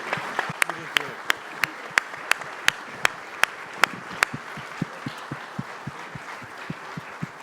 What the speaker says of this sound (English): let's give a round of applause to 4 brilliant panelists who care deeply about our community